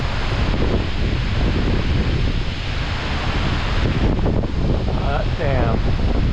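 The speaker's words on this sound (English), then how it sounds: "the wind gusts coming off of this thing are pretty intense as well" Strong wind gusts blowing off a large Yosemite waterfall create a loud, constant roar and buffeting across the whole clip, with the distant rush of falling water mixed in.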